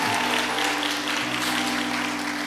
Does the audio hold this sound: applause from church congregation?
yes